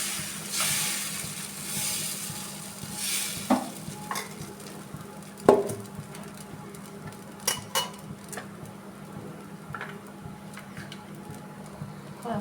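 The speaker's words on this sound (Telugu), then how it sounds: "వాటర్ చల్లినాక ఇప్పుడు దోశ వేసుకోవాలి." Dosa batter for a Nellore-style ghee karam dosa hits a hot pan that was just sprinkled with water, giving a loud, steady sizzle that fades slowly, with a few sharp scraping taps from stirring or spreading.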